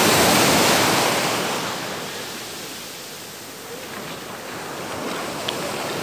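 Sea waves washing onto the shore at Las Grutas, Uruguay, near Punta Ballena, a broad steady roar of surf that swells loud, eases off in the middle and builds again, with no voices.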